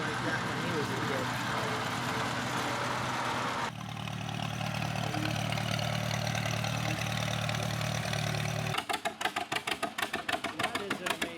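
An antique Oliver tractor engine idles with a steady low chug, shifting to a faster rhythmic putt-putt toward the end, heard outdoors amid background noise at an antique machinery show.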